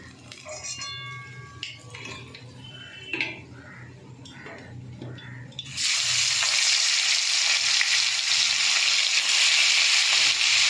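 Pomfret fish fry in a hot pan, starting with clinks of utensils and handling noises before a loud, steady sizzle bursts in and continues to the end.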